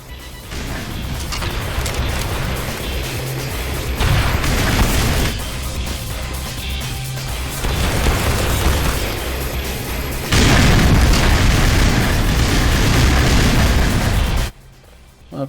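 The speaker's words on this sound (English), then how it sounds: "It's gonna take half a dozen rockets in order to take this thing down." Heavy booming rocket explosions in the video game Black Mesa arrive as several sustained, loud blasts in succession, each a dense rumbling roar, ending abruptly into quiet.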